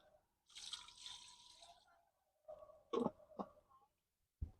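Water is added to a pot of suman cooking over the stove, giving faint pouring and splashing with a few sharper drips and clinks in an otherwise quiet kitchen.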